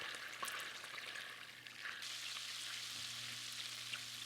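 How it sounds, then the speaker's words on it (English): Fat sizzles and bubbles steadily in a hot pan as the water boils out of it, a continuous close crackling hiss with no voices. "You can hear it bubbling away."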